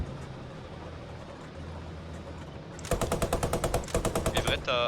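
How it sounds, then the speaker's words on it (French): Rapid machine-gun bursts in the World War II shooter Post Scriptum, loud and close, firing in a fast repeating rhythm for the last two seconds after a stretch of low rumbling ambience. "je me reprends des tirs"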